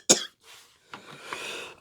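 A single sharp cough up close, followed by a short throaty rasp and a breathy exhale as the throat settles.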